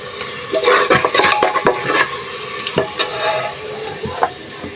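Onions frying with chili powder, coriander powder, cardamom and cinnamon for beef biryani, with a steady sizzle broken by repeated stirring scrapes and clinks of a utensil against the pot, close and fairly loud.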